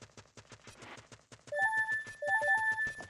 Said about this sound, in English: That's the sound that the horse makes.